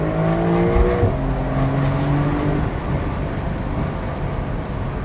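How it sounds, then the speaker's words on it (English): Porsche 911 Carrera engine with a PDK transmission, a loud steady engine drone heard from close by with a quick pitch drop as a gear shifts early on, then a smooth continuing hum. "Perfect upshifts, smooth downshifts, smooth upshifts."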